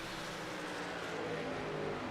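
A race truck engine roars continuously at Kansas Speedway, a loud, dense mechanical drone with a steady low hum that holds without pause and with no voices.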